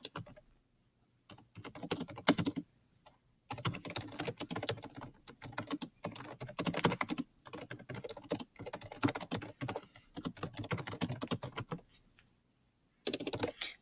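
Fingers typing on a computer keyboard in quick bursts of clattering keystrokes, separated by short silent pauses, close and clear with no talking.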